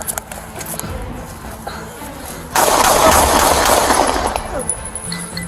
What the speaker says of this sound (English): 31 shots ended the nightmare.